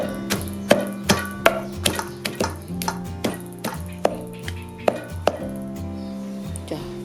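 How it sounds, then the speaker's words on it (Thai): Garlic pounded in a mortar for homemade Thai sour pork, steady rhythmic thuds repeating about every half second, close and fairly loud, each knock ringing briefly with a hollow wooden tone, no talk. "นี่ก็สิตำกระเทียมก่อน"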